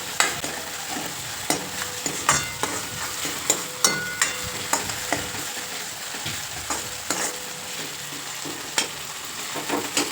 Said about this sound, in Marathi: असं मीठ जर टाकून घेतलं तर टोमॅटो लवकर शिजतो.